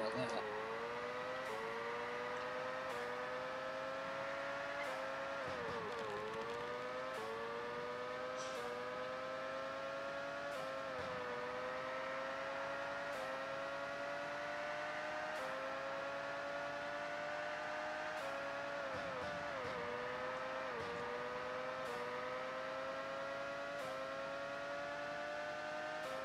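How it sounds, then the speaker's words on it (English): High-revving F1 car engine in the Nintendo 64 racing game F1 Pole Position 64, a steady synthesized whine that rises and dips with gear shifts, running continuously under a talking voice. "I don't like that high RPM noise."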